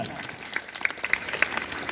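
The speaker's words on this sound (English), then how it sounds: "Once again, give her a big round of applause." Audience at a Nepali community event gives a short round of applause, scattered claps over a brief, fairly faint stretch.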